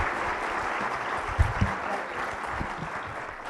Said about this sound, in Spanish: Démosle un caluroso aplauso a nuestros ponentes por estas charlas tan bonitas